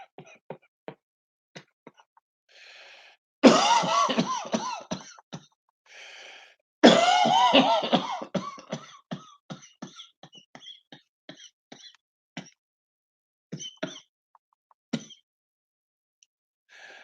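A man coughs in two loud, harsh bursts close to the microphone, followed by scattered short clicks and small throat sounds in an otherwise quiet room.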